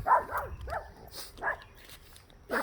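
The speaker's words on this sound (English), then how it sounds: "Guard dog at work." A guard dog barks in a garden, several sharp separate barks spaced across the moment, with quieter gaps between them and no talking.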